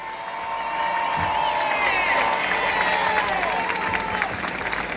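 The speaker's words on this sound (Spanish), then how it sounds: "vamos a darles un gran aplauso" Crowd at the Vigo Christmas lights ceremony breaks into applause with cheers and whoops, a broad sustained roar of clapping and voices at moderate distance.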